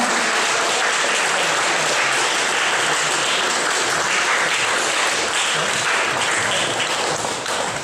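Audience applause fills the closing of a blues and rock festival, dense sustained clapping from a crowd that stays loud throughout.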